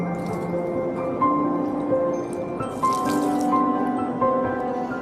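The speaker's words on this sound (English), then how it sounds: "Dripping water hollows out a stone not by force, but through persistence." Water dripping onto stone outdoors on a hiking trail, a series of clear, ringing drops landing at irregular intervals over a soft background hiss, with no talking.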